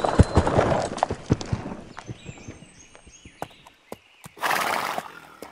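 A horse whinnies loudly and nearby while its hooves clip-clop in an uneven walking rhythm, and a second louder neigh bursts out near the end.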